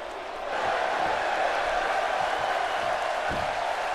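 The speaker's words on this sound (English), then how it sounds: "This crowd firmly behind the champion" A wrestling arena crowd roars steadily in support of the champion during a match, a dense sustained wash of cheering with a few distant thuds underneath.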